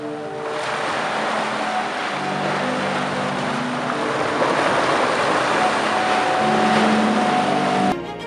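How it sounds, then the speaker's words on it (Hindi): Sea waves washing against the 35 marble steps of the Zadar sea organ, built in 2005, sustaining low organ-like tones over a loud, steady rush of water that cuts off abruptly at the end. "जिसकी लहरें जब सीढ़ियों के स्टेप्स के साथ टकराती हैं तो हमें बिल्कुल ऐसा"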